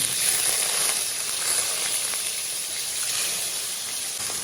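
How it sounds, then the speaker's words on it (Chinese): Fish bones frying in a little cooking oil in a wok give a steady, close hiss and sizzle that hold even for the whole stretch, with no talking. "锅里面加上少量的食用油，然后我们再把鱼骨给下进去"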